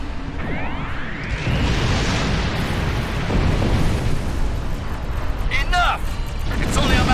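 Weapon fire and explosions from a doomsday weapon firing indiscriminately in the Star Trek Online video game, a sustained loud rumbling roar with bursts on top and voices talking over it.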